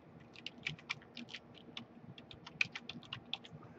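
Someone types a short project name on a computer keyboard, a quiet run of quick, uneven key clicks close by with no speech.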